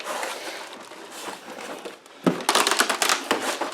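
Packaging for a Corsair K95 RGB mechanical keyboard being handled during unboxing, with crinkling plastic and cardboard rustling close by, quieter at first and then a louder burst of crackly handling in the second half.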